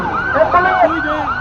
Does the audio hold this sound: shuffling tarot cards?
no